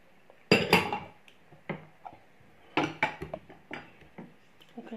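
Cocoa and butter being mixed in a bowl for a Moroccan chewy Eid cookie dough, heard as several sharp utensil clinks and scrapes against the bowl, close and irregular, with quiet gaps between strokes.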